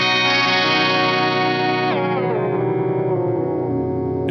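Clean electric guitar through a latched whammy pedal shifting notes two octaves and then one octave up, bright sustained chords with a stepped pitch drop partway through, heavily effected and loud.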